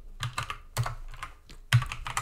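Keys clack on a computer keyboard in three quick bursts as a password is typed, close and distinct with short pauses between groups of keystrokes.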